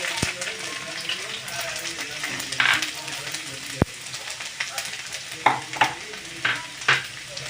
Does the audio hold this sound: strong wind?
no